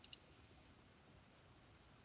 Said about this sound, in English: I'm going to right click on PowerShell